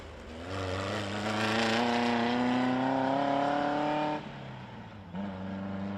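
Ultra4 off-road race cars run at the 2021 Big Sky 200, one engine revving loudly and climbing in pitch, then cutting off briefly before picking up again nearby.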